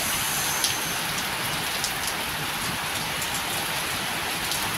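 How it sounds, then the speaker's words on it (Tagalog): Steady, dense rain pours down without a break, a loud hissing wash with faint scattered drip taps on top. "Lakas ng ulan, guys."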